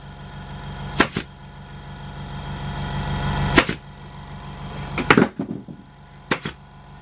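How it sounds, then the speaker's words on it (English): An air compressor motor drones steadily and builds for several seconds in a workshop, then shuts off, with a few sharp, loud pneumatic stapler shots cracking over it. "That's my compressor going off."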